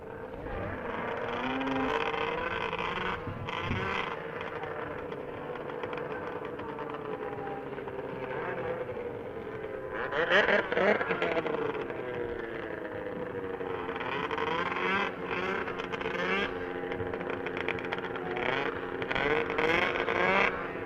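Snowmobiles racing at the World Championship Snowmobile Derby in Eagle River, a continuous loud high-revving engine roar from several machines, swelling as they pass near, with the pitch shifting throughout.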